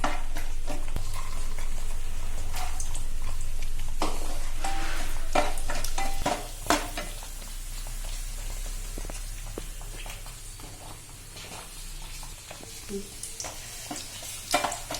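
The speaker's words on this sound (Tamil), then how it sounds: "முந்திரி லேசா வறுப்பட்டோன்னே திராட்சையும் சேர்த்துக்கலாங்க." Cashews and raisins frying in ghee in a pan for sweet pongal, a soft sizzle under sharp scrapes and clinks of a spoon stirring against the metal, close up, with the sizzle settling lower halfway through.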